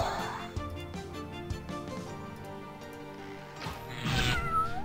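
A cat enemy in the video game Epic Battle Fantasy 4 meows amid the game's battle music and effects, with repeated cat cries over the music and a brighter burst near the end.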